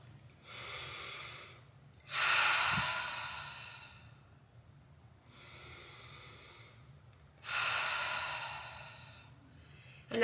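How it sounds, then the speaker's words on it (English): Two slow, deep breathing cycles taken to ground oneself, each a soft airy inhale followed by a longer, louder whooshing exhale, close and alone. "So I'll take a couple deep breaths here to ground."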